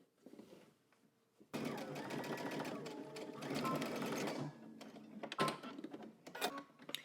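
A sewing machine stitches a skirt waistband closed at a 5/8-inch seam allowance, its motor running in a loud steady burst for about three seconds, then stopping, with brief clicks and a short restart afterward.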